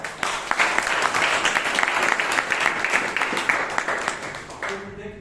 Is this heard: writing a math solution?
no